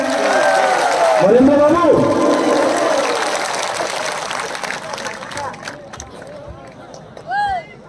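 Crowd at a political rally of the Tipra Motha party, clapping and cheering in a dense burst that gradually fades, with someone speaking over it through a loudspeaker.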